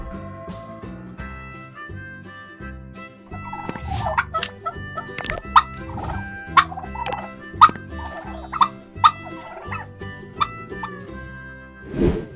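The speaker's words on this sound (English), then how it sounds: "Turkey." A farm turkey gobbles in a string of rapid, rattling calls repeated several times over a steady musical backing, fairly loud and close.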